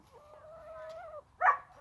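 A drawn-out, wavering hen call from a chicken, followed by a short, louder squawk near the end, fairly close with farmyard noise behind.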